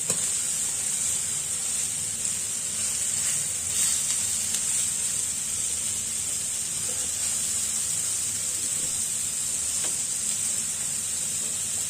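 Caramel for apple galettes sizzles in a pan and is stirred now and then, a steady bright hiss running unbroken through the whole stretch with faint scraping beneath.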